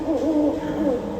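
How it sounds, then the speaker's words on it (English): Malay fish owl calling at a night safari amphitheater show, a low wavering hoot drawn out over about a second, fairly loud and close over a soft background hiss. "That is a familiar call of an owl."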